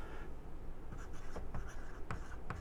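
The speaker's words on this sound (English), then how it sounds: "I'm just going to write it that way." Pen or marker scratches across a board in short strokes and taps, faint and close, over a low steady background hum.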